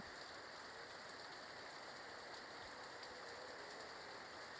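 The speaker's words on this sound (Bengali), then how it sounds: "কত জোর জোরে বৃষ্টি।" Heavy rain pours down in a steady, dense hiss of drops hitting surfaces, continuous and unbroken throughout with no voices.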